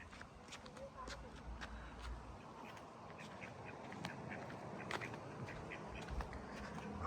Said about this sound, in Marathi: या ठिकाणी बदक पण आहेत. छोटे छोटे असे बदक आहेत.